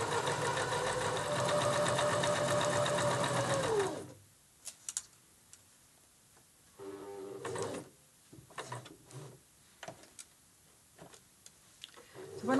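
Sewing machine running steadily for about four seconds as it stitches a 1 cm seam in fabric, loud and close, then stopping; afterward only faint handling clicks and rustles.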